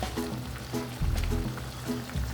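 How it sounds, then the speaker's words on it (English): Polenta being whisked into a pot of boiling water for a vegan recipe, with rhythmic scraping strokes of a whisk and bubbling liquid underneath, close and steady. "I'm just gonna whisk that in"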